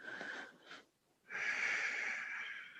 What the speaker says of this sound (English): Deep breath with sound.